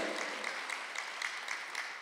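A congregation claps at a Korean church Sunday worship service, a steady wash of hand-clapping with a rhythmic, evenly spaced beat running throughout.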